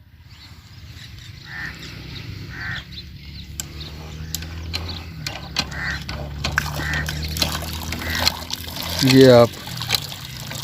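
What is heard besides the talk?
hand pump being operated, water flowing out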